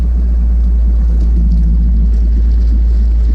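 An outboard fishing boat idles slowly along docks and Kissimmee grass on Florida's Harris Chain of Lakes, a steady low engine rumble with light water wash, continuous and close, with no talking.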